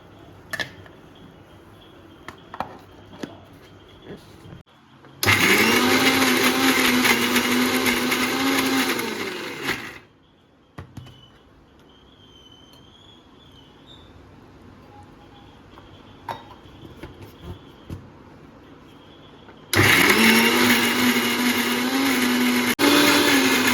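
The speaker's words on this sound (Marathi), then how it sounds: "मिक्सरला लावून घेऊ त्याच्यामध्ये थोडीशी कोथिंबीर" A kitchen mixer grinder whirs loudly, blending coriander and ginger for mutton gravy, in two separate runs of several seconds each with a quiet pause and faint clinks between them.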